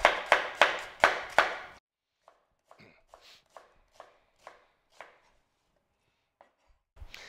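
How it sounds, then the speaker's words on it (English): Onion for a chicken curry being chopped on a board, opening with five loud, evenly spaced knife strokes, then a run of softer, sparser taps and scrapes, close by with no speech. "But this one, very simple, very basic, and it starts with some onion."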